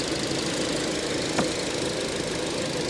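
The engine of a 2019 Chevrolet Silverado runs at a steady idle, with an even, close mechanical drone and a faint knocking texture. A single brief tick comes midway, and no one speaks.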